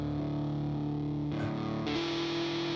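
Distorted, overdriven guitar music from an album plays loud and continuous, with sustained buzzing chords that shift pitch a few times.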